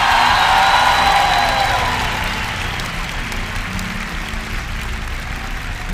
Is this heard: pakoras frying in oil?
no